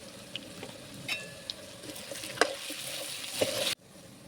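Potatoes and onions frying in a pan while being stirred, a quiet continuous sizzle with scattered clinks and scrapes of a spoon, close by, cut off abruptly near the end with no voices.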